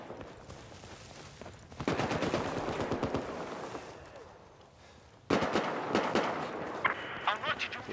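Hostile machine gun fire in Battlefield 4 rattles in two long, rapid bursts of dense automatic shots, loud and close, with a player's voice talking over the game sounds.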